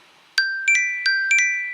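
A mobile phone ringtone of bright electronic chime tones, four quick rising notes in a short melodic pattern, each ringing and sustaining, fairly close and alone with no talk.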